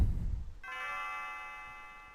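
A bell chimes in Chrono Trigger, one clear ringing tone struck after a low rumble and left to sustain and slowly decay.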